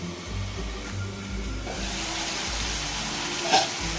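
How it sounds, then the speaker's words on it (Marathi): Onion and tomato cook in a covered pan for dal khichdi, giving a steady, close sizzle and low bubbling hiss with a brief clink near the end. "कांदा आणि टोमॅटो वाफून घेते झाकण ठेवून"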